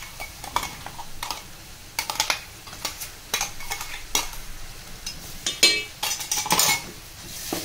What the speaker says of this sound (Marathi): ती चांगली परतून घ्यायची आहे।